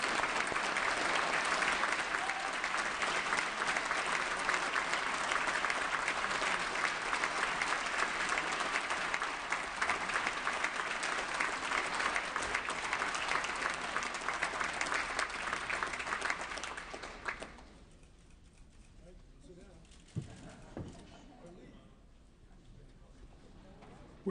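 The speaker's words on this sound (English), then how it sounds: "Let's give Governor Brown another round of applause as he exits the chamber." Sustained loud applause fills a state legislative chamber as the governor leaves after the State of the State address, then fades out around seventeen seconds and gives way to quiet room noise with a few faint sounds.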